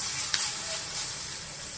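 Onions and potatoes fry in a pan with a steady, moderately loud hiss and crackle, marked by a few brief spits and pops.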